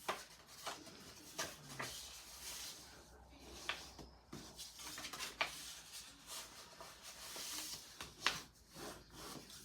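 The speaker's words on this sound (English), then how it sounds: "I'm going to fold on all those score lines and give it a nice little burnish" A bone folder rubs and burnishes folded score lines on paper. It makes soft, uneven scraping strokes close by, with small sharp taps and scuffs at irregular intervals and no voices.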